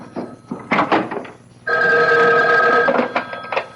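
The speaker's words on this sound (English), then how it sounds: "Excuse me, that's my phone." A telephone bell rings in a steady, loud burst during a mystery radio drama, framed by brief thumps and faint voices before and after the ring.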